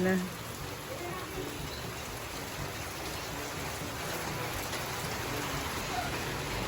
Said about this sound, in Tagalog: Lakas naman ang ulan.